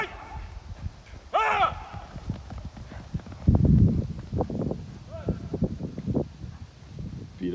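An Arabian horse walks with steady clip-clopping hooves, close and rhythmic, while a person talks over it and a brief whinny-like call rises early on.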